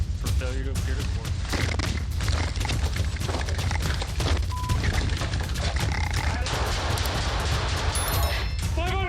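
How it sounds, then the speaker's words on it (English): Gunshots ring out during a police dashcam encounter, a dense chaotic stretch of loud cracks and bangs mixed with shouting voices and rumbling noise throughout. "Shots fired! Shots fired!"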